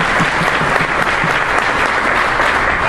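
Audience at a Republican Northeast Conference in Rhode Island breaking into a round of applause, dense steady clapping close and loud for the whole stretch.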